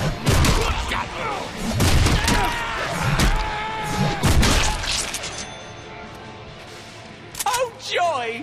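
Gunfire in a Deadpool game crackles as loud bursts of repeated shots with impacts and crashes, uneven and busy, mixed with voices and effects.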